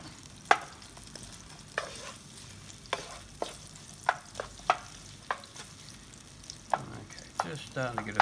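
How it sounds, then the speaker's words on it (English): Onion sizzles gently in a pan for mee goreng, a soft steady frying hiss broken by frequent sharp clicks and scrapes of stirring. "Okay, just starting to get a sizzle on that now."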